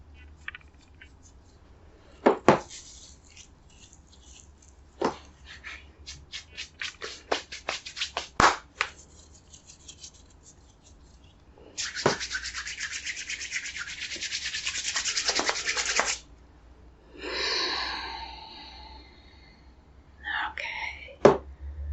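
Oil being rubbed onto a person's skin by hand in an ASMR session, with close, soft slick strokes and brushing swishes, some in long continuous passes, alongside sharp taps and a quiet voice.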